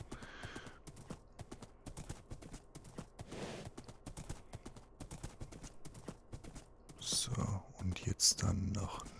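Rhythmic hoof clip-clops from a Minecraft horse, moderately loud, with soft whispered talk over it and a louder burst of noise near the end.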